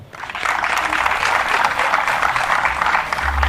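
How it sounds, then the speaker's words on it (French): An audience at a televised Congolese talent challenge show applauds loudly, a dense, continuous roar of clapping that holds steady throughout with a low rumble underneath. "On applaudit très fort pour ces jeunes patriotes congolais."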